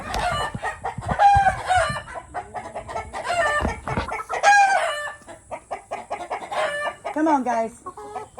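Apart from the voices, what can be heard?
chickens clucking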